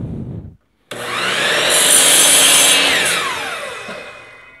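A power saw cuts through a piece of reclaimed wood, starting abruptly after a short pause, then rising to a loud, close, steady whining cut that fades as the blade winds down.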